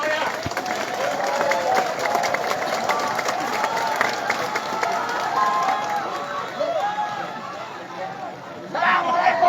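Outdoor student protest crowd at a regional parliament office in rain, applauding and cheering together in a broad, steady wash of clapping with chatter mixed in throughout.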